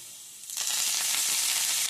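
Golden-fried onions, cumin and curry leaves hit hot tempering oil for a moringa leaf dal, a brief quiet hiss jumping into a loud, bright, continuous sizzle close to the pan.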